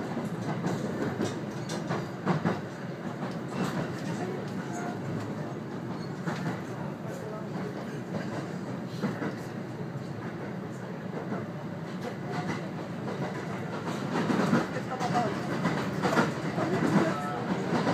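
A JR 521 series local train on the Hokuriku Main Line between Tsuruga and Imajo rumbles steadily along the rails with faint rhythmic clatter, a continuous low interior hum throughout.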